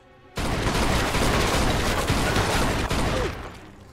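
Dense, sustained automatic gunfire in Mafia 2, a loud rapid fusillade of overlapping shots that starts abruptly and rattles on for about three seconds before fading.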